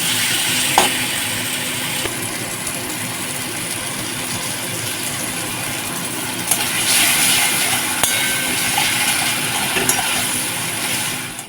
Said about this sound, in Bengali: এবার ভালো করে মশলাটাকে কিন্তু কষাতে হবে